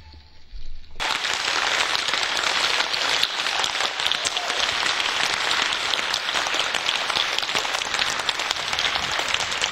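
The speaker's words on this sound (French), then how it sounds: "et les autres applaudissent" After a second of near silence, a large audience at a European youth event breaks into loud, sustained applause, a thick steady patter of many hands continuing unbroken to the end.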